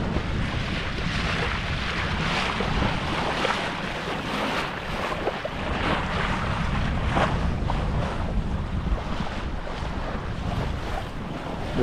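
Strong wind rushes past a sailboat under way in a flotilla on open water, a constant loud roar of wind buffeting and waves washing, with no talking.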